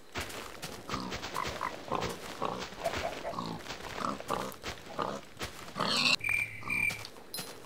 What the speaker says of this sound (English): Hey, look, there's a pig.